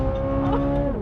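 A 2023 Chevrolet Corvette Z06 V8 hums with steady tonal harmonics for about a second, then suddenly jumps to a louder, higher-pitched rev at the end.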